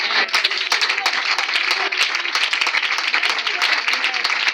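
A church congregation claps and cheers during a Sunday service, a dense continuous round of applause mixed with voices throughout.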